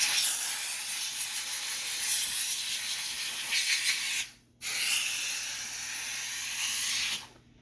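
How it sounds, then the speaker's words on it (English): A Grant's handheld steam cleaner blasts steam onto a window in two long, loud hissing bursts, cutting out briefly between them and again at the end. "you can see the steam just blasting down all that dirt and grime"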